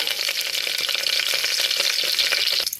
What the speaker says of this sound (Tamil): இப்போ நல்லா இது காஞ்ச உடனே இதில் கொஞ்சம் கருவேப்பிலை போட்டுக்கோங்க